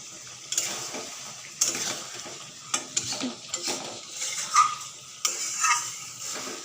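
Mutton frying in a pan with a steady low sizzle and oil spitting, broken by irregular stirring scrapes and clinks that come every second or so, close up and without voices.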